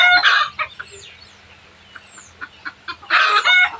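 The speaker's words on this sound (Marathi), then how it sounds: "कोंबड्यांचा कसा कालवा चाललाय बघा असा." A flock of farm chickens clucks and clamors nearby in bursts of loud squawking at the start and end, with scattered clucks in between and brief high chirps.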